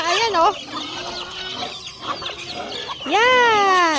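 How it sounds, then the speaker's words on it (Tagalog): Chickens cluck and squawk close by while being fed, with a short run of calls at the start, scattered softer clucks, and a louder drawn-out call near the end, as a person speaks briefly. "magpapakain tayo ng ating mga manok"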